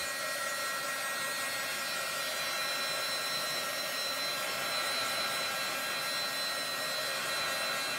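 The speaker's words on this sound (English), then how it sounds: "I do have my heat tool. So let's go ahead and give that a little blast." Heat tool blowing hot air to dry paint on a canvas, a continuous even whooshing hiss with no breaks, close and fairly loud with no talking.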